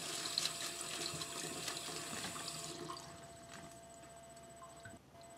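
Tap water runs into a container of soda ash solution for tie-dye prep, a soft steady rushing that fades and quiets partway through, fairly low in level with a faint ticking in the background and no talking.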